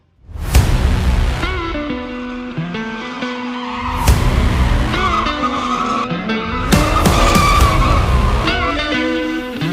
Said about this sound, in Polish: tam jedzie E36 z urwanym wydechem